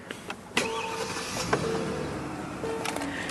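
Whirring electric power seat and steering column motors hum steadily inside a 2012 Hyundai Genesis 4.6L as it starts, with clicks and clunks as they start and stop, close and moderately loud.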